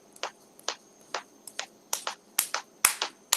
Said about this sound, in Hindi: एक उंगली से ताली बजाएं